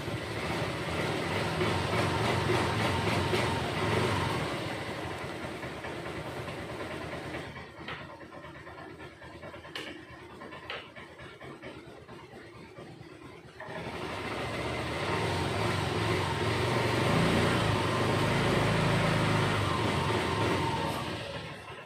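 A Honda Vario 125 scooter with an ECU error idles as it warms up, a steady close engine drone that drops away midway, leaving quieter clicks, then returns at full strength.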